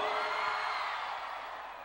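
At the Boi Garantido festival, a large crowd shouts and cheers in a loud, continuous roar that fades slightly toward the end.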